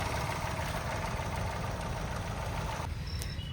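A Mahindra XUV300 W6 turbo petrol engine from 2023/24 idles with a steady drone and low rumble, near and loud, then the hum thins in its final moment.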